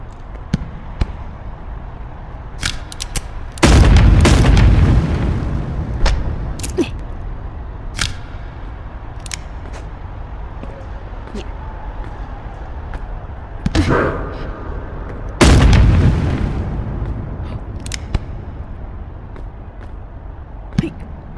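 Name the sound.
gunfire and explosions in an animated Animal Company-style video game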